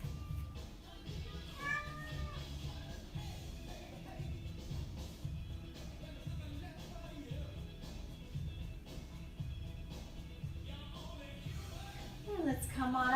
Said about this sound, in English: Got a little cat here named Mia